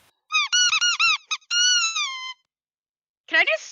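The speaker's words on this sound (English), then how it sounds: "Can I just talk in squeaky toy noise from now on?" A squeaky toy gives a rapid run of bright, high-pitched squeaks in quick bursts. A longer squeal follows, then after a pause a final short cluster of squeaks, loud and close.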